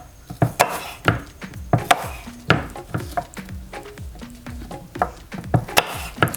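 A kitchen knife chops an apple on a cutting board, sending out a quick irregular series of close, sharp knocks against the board, with no voices.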